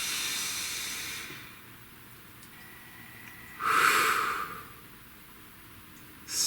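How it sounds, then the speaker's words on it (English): One slow, deep breath, audible as a rising airy rush at close range, rests over a faint steady hiss. "Please take a nice deep breath."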